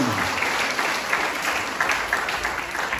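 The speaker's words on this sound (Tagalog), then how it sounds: "pumalakpak ng malakas sa ating Panginoon" A church congregation claps loudly for the Lord during a Christmas sermon, sustained dense applause that fills the space evenly from start to finish, with no voice rising above it.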